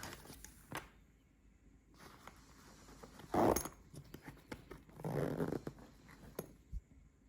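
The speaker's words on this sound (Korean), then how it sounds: "그러면 맨 앞에 있는 지퍼를 열어서 내부 구조를 간단히 보겠는데요." An Eider backpack's front zipper is pulled open in two rustling, scraping bursts, one short and one longer, close up amid soft handling noise and faint clicks.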